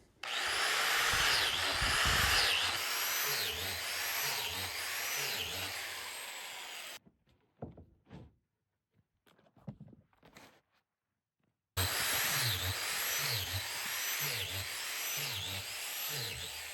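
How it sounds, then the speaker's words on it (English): Angle grinder boring holes in logs for mushroom plug spawn outdoors, a loud close whining drone in two long stretches separated by a quieter gap of scattered knocks and clatter. "The angle grinder just makes it a lot faster if you have a lot of logs to plug."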